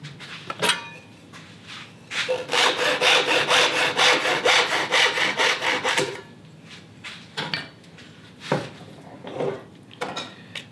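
A hand saw cuts through a piece of wood in a rapid burst of rhythmic rasping strokes, close and clear, followed by a few scattered scrapes and knocks of handling.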